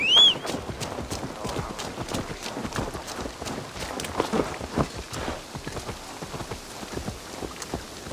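Hoofbeats of a galloping horse in Assassin's Creed Valhalla, a rapid, steady run of close thudding clip-clops, with a brief high tone near the start and no voices.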